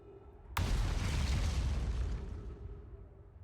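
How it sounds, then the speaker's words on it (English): A loud, sudden boom from an explosion in the video game Outer Wilds erupts after a moment of quiet, then rumbles and fades slowly over a few seconds, with no voices. "What is up with these explosions?"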